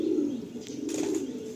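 A Madrasi pigeon in a loft giving soft low coos, two drawn-out calls close by with faint background noise.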